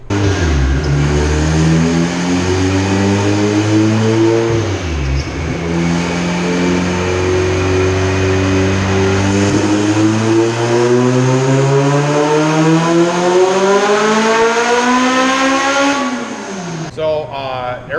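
A tuned car engine revs hard under boost, loud and close, with its pitch climbing steadily through the gears and a brief dip at a shift. Talk runs underneath.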